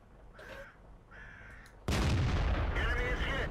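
A tank cannon fires in World of Tanks, a sudden loud boom that cuts in midway and holds as a dense rumbling roar, after quieter ambient battlefield tones and faint game sounds.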